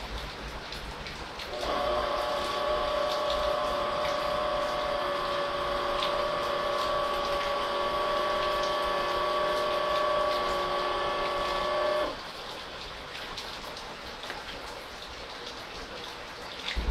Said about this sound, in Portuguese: Vamos agora testar o motorzinho de 1/4 CV.